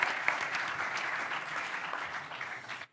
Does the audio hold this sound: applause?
yes